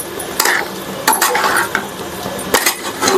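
Potato fry is stirred in an open pan with a metal spoon, giving repeated sharp scrapes and clinks against the pan over a soft background sizzle.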